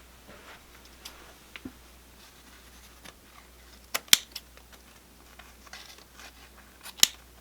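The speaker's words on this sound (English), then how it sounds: "we're going to trim that down using our scissors" Scissors trim ribbon for a wreath, giving a few faint, crisp snips and clicks spaced apart in a quiet room, with two sharper cuts standing out.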